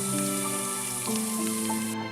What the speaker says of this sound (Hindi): जिसमें गर्म तेल खौल रहा था। तेल की उबलती आवाजें और उससे उठता धुआं